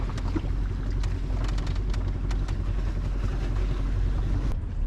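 Small motorized dinghy running on open water, its outboard giving a continuous loud drone mixed with hull slap and heavy wind buffeting the microphone.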